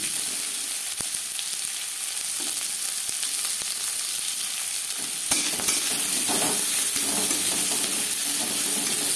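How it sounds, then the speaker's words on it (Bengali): Chopped onion sizzles in mustard oil in a kadai, a steady close frying hiss with scattered stirring clinks, rising slightly louder partway through; no talking. "পেঁয়াজ লালচে করে ভেজে নেব।"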